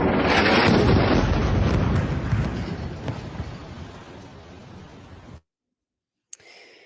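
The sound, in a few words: bombing strike explosion in Gaza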